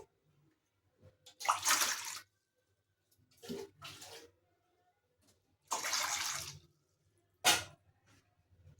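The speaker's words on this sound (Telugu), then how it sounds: "ఈ బౌల్లో ఫుల్గా తీసుకుంటున్నాను వాటర్" Water pours into a bowl in several separate bursts, each a rushing splash lasting about half a second to a second, with quiet pauses between them.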